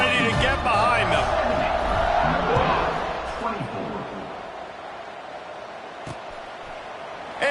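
A Notre Dame football stadium crowd roars and whoops just before kickoff. The noise is loud at first and then fades to a lower, steady murmur of a large crowd.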